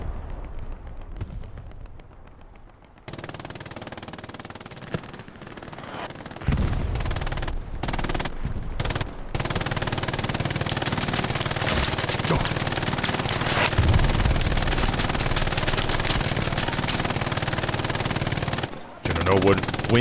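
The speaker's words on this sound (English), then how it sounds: "Norwood wins the 1v1 versus the other MG" Machine guns duel in the World War II shooter Hell Let Loose, with dense, loud bursts of automatic fire and explosions. The fire runs almost continuously for about twenty seconds while a commentator talks over it.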